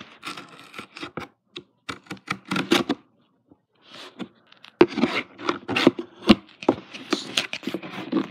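Knife cutting and scraping through the packaging of a steampunk gas mask, heard as a close series of sharp clicky scratches and rubs, pausing briefly before a denser burst of cutting.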